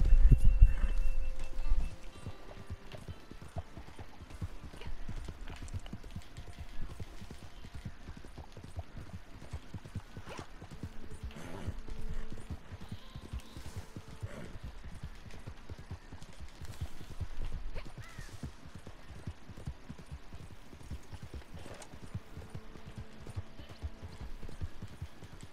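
Horse hooves clip-clop steadily in the Red Dead Online video game, a continuous rhythmic trot heard at moderate distance over a low hum, with no talking.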